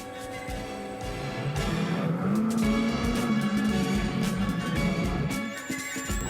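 A rally car at the Monte Carlo Rally overcooks a snowy hairpin, its engine roaring loudly with rising revs and tyre squeal as it slides, close and continuous with no talk.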